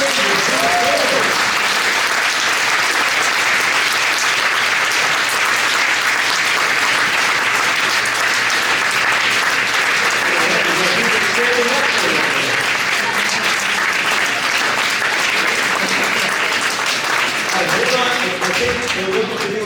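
Loud, sustained audience applause at a political candidate forum, a dense roar of many hands clapping from a large room, with faint voices and cheers surfacing underneath.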